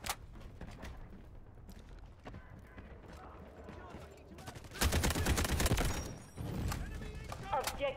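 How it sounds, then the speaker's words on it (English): Artillery barrage gunfire in the video game Delta Force Hawk Ops: a steady bed of battlefield noise with scattered shots, then a loud, dense burst of explosive fire around the middle and another heavy rumble near the end. "Artillery ready for barrage."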